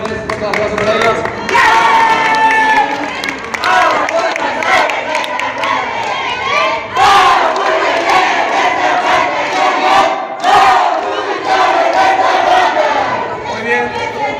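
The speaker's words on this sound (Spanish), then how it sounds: "los chicos nuevos profesores, fuerte aplauso para ellos." A crowd at a corporate rally event in Juliaca, Puno, Peru, cheers, shouts and applauds for new teachers, loud and sustained with surging waves of voices and scattered clapping throughout.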